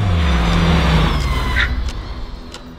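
A car races past at high speed during a 110 km/h crash test, a loud broadband engine and road roar that peaks and fades quickly within about three seconds, with no talk over it.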